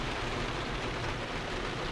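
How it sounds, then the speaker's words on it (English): Steady rain falls at a motorcycle campsite, a dense, even hiss of drops with no breaks and no voices. "The rain has come in."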